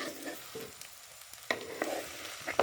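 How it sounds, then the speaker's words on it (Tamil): Jackfruit pieces sizzling in hot oil in a pan, a soft steady frying hiss broken by a few sharper clicks and scrapes as the pieces are turned. "கொஞ்சம் எண்ணெயில் பொரியட்டும்."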